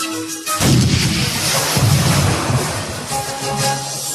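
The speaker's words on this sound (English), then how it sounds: "The Nautilus shook from the explosions of the cannonballs in the water" Heavy cannonball blasts boom one into another in the water, a loud, continuous rolling rumble of explosions with no break.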